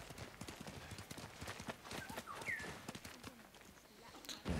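A horse's hooves clip-clop in an open-world samurai game set on Tsushima, a brisk repeated beat of close hoof strikes with game ambience, under occasional male speech.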